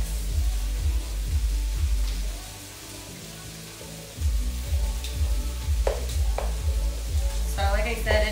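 Rice with fresh lime and cilantro sizzles in an oiled pan as it is stirred, a steady close frying hiss that briefly dips, with a few scraping clinks of the utensil near the end.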